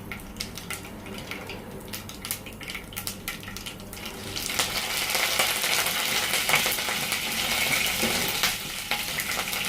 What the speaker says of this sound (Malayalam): കടുക് പൊട്ടിയതിന് ശേഷം നമ്മൾ പകുതി കരിവേപ്പില ഇതിൽ നിന്ന് ചേർത്ത് കൊടുക്കാം